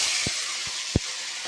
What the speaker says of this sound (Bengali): এইভাবে আমি প্রত্যেকটা মাছকেই কিন্তু ভেজে ফেলব।